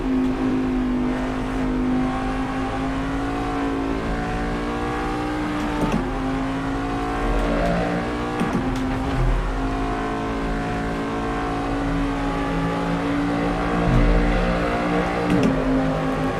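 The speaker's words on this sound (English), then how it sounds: "And again, you can hear that engine echoing." A Corvette DP racing car engine in Assetto Corsa drones at a steady, high pitch, holding a sustained whine with small surges and a faint echoing quality throughout.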